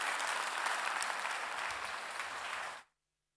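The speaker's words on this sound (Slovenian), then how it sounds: "Aplavz in poglejmo." Sustained applause from an audience at a Slovenian state awards ceremony for education, a dense even wash of clapping that holds steady for nearly three seconds and then stops abruptly into silence.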